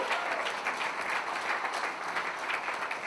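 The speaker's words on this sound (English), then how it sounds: "Can we give him a thunderous applause?" An audience at a National Action Network gathering applauds steadily, a dense, continuous wash of clapping throughout at moderate level, with no voices over it.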